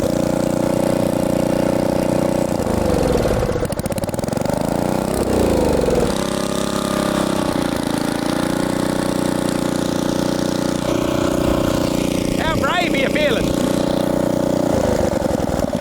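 A small petrol engine with its choke on runs loud and steady up close, its pitch wavering and dipping briefly at times.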